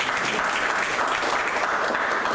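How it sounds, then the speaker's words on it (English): Audience applause closing a brownbag talk on U.S.-China rivalry and Southeast Asia: a continuous, even wash of many people clapping, moderately loud and unbroken for a couple of seconds. "Give you a round of applause."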